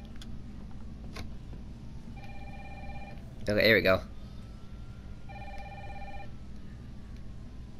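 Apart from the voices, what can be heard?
telephone ringing in video game Resident Evil 3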